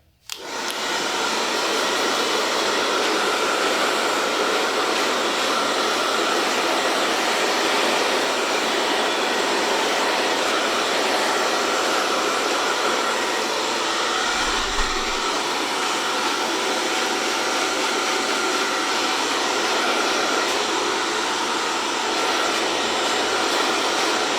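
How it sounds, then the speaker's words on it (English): A hair dryer blows cold air continuously at close range, a loud, steady whooshing hum that runs unbroken from start to finish. "I like to come back in with a hairdryer and use a bit of cold air"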